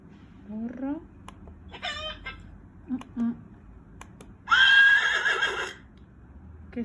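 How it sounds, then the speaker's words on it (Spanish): A horse whinnies in one loud, drawn-out neigh near the end, after a few shorter scattered calls, against an otherwise quiet background. "Un caballo."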